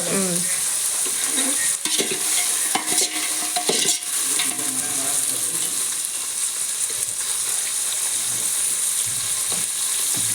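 Food fries in a pan with a steady, dense sizzle that continues throughout, broken by occasional scraping and clinking as it is stirred; no one speaks.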